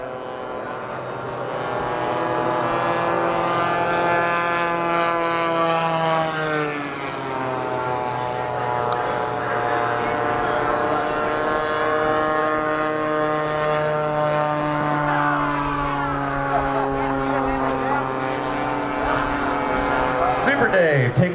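A warbird propeller aircraft roars through high-speed passes over a runway at an airfield, its loud droning engine tone rising and falling in pitch as it approaches and recedes, with a voice talking over it.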